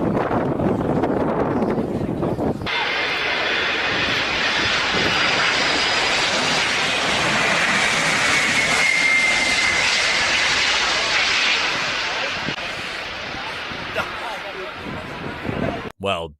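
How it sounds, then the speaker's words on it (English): Antonov An-225 cargo aircraft landing in a crosswind, a loud sustained jet engine roar with heavy wind buffeting on the microphone, steady throughout and fading near the end. "Let's see how this pilot handles the landing of the Antonov 225."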